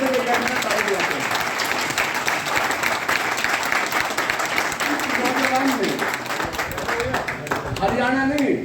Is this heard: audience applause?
yes